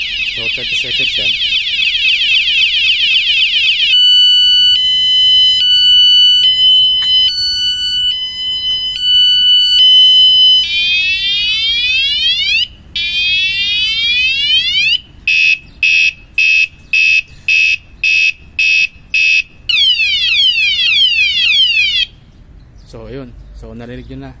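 An Anti-Theft Alarm Pro bought from AliExpress sounds loudly at close range, cycling through piercing patterns: steady tones, warbling beeps, rising sweeps and rapid pulsed bursts, then cutting off near the end.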